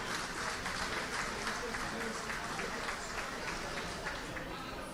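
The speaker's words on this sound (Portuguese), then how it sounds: "meus senhores merecem uma grande salva de palmas" An audience at a Portuguese-language presentation event breaks into steady applause, a continuous crowd of clapping hands at moderate level with faint voices mixed in.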